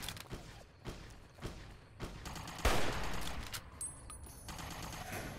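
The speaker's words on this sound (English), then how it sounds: "Oh, I shot the caravan guard." Scattered gunshots from the video game Fallout New Vegas, a run of sharp thumps with one louder close burst midway, set against game ambience with no talk.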